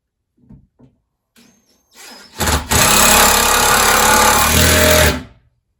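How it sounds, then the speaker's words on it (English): A stubby-nose power drill runs while sink brackets are installed, first a few faint clicks and short taps, then a loud, close, continuous whirring burst of about two and a half seconds before it stops. "This is kind of a stubby nose little drill."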